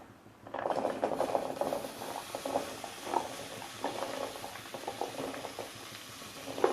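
Onions hit hot oil in a kadai for an Andhra-style onion chutney, setting off a busy close bubbling and popping sizzle. The sound rises sharply at the start, then holds as an even crackle throughout.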